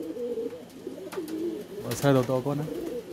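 Pigeons coo in a pigeon farm: soft, rolling, low calls that repeat close by, with a louder coo near the end and a few faint bird sounds around them.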